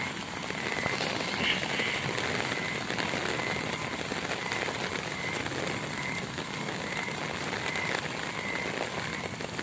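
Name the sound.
heavy rain falling in Swabi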